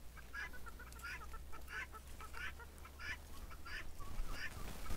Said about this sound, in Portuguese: Ver o nosso frango caipirão aí.